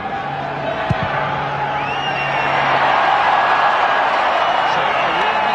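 Stadium crowd at a Tri Nations rugby match between Australia and South Africa reacts to a missed kick at goal, its murmur swelling into a louder roar partway through, with a commentator's voice briefly over it.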